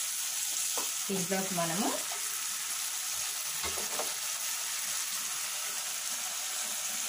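Tomatoes fry in a pan for curry with a steady, quiet sizzle throughout, while someone speaks briefly over it.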